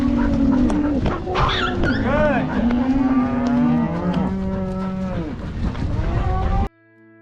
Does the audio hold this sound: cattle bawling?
yes